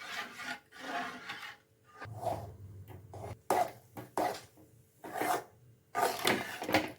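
Rice flour batter stirred steadily in a kadai over a medium flame, a close, rough scraping and rasping of the spoon against the pan in repeated strokes with short pauses between them.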